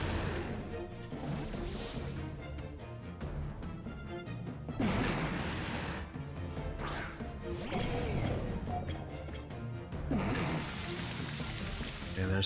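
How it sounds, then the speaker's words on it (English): Rain Dance rain effect from a Pokémon Scarlet battle, a steady hiss of rainfall with whooshing swells and crashing hits under game music, moderately faint with no talking. "Okay, there's the Rain Dance."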